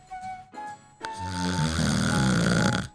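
A voice imitating snoring during a children's bedtime story read aloud: two short nasal snorts, then a long drawn-out rumbling snore, close and clear with no other talk.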